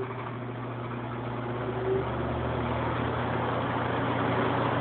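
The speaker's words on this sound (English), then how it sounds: "This is a model 543 4-speed control. It works and it hums." A Mathes Cooler wooden box fan, model 543 with a four-speed control, runs with a steady low hum and an even whirring drone that holds without change throughout.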